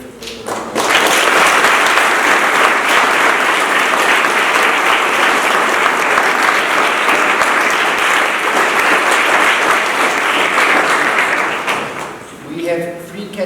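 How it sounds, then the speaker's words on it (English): Audience at a Grade 5 and 6 school final assembly applauding the staff, a sustained loud wash of clapping from many hands that fades out near the end. "put your hands together to just clap for all the staff at Cowan House and for the effort that they do"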